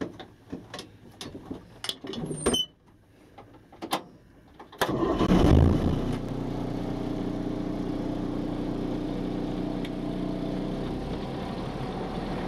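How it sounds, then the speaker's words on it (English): A truck engine cranks and catches after a few sharp clicks, then settles into a steady, loud running rumble that continues to the end. "Safe start engine."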